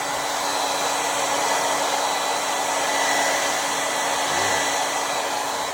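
A heat gun blows hot air onto Oracal 651 vinyl applied to a hat, a loud, steady, continuous whoosh with a constant motor whine and no speech.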